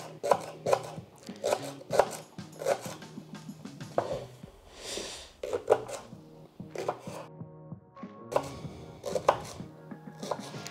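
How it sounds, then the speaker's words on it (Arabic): A knife chops leek and onion on a board in a steady series of crisp, close knocks with short pauses between bursts, for soup of courgettes with cheese. "ماشي مشكل تقطعوهم غلاد لان كلشي غادي تطحن من بعد"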